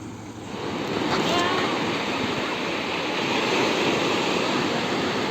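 Autumn sea surf washes onto the shore in a steady, broad roar, loud and close, with wind buffeting the microphone.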